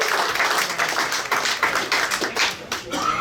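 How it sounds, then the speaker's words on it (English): Clapping from attendees at a parade preview meeting, a round of applause with sharp individual claps standing out, fairly close and loud, with some talk mixed in. "Let's go, big round of applause."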